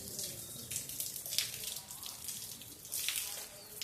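Heavy rain with lightning in Madurai is heard as a steady, faint hiss of falling water and splashing, with bursts of louder spatter, from indoors.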